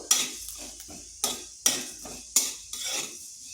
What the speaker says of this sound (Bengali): সরষাটাকেও একটু ভেজে নেব।